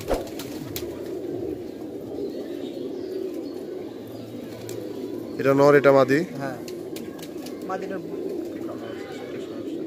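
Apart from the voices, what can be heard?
Kaldom pigeons cooing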